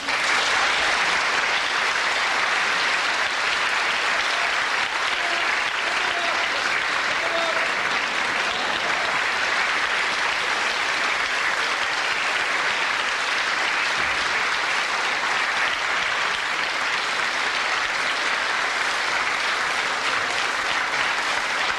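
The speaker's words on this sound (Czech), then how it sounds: "Já jsem sem nevletěl jenom proto, abych vyžral ten aplaus." A theatre audience at a 1994 Czech stage performance of Lucerna bursts into sustained applause, a dense, even roar of clapping filling the hall for over twenty seconds without break.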